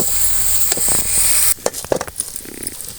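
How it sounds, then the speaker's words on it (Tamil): Sorrel leaves (pulicha keerai) sauté in hot oil on a low flame, with a steady sizzle that gives way to scattered spatula scrapes and soft pops and crackles, up close and with no voices. "அப்படியே வதக்கிட்டே இருப்போம்"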